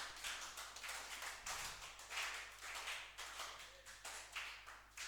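Students clapping their hands in a classroom, a run of quick, fairly soft claps with irregular bursts, close by and continuing for several seconds without talk.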